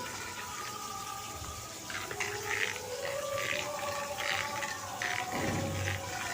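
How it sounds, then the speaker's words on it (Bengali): Rinse water from a plate pours into a pot of cooking masoor dal with raw mango, a soft, steady splashing and gurgling that rises and falls in small surges, fairly quiet and close. "তার সাথে প্লেটটা ধুয়ে জল দিয়ে দিলাম"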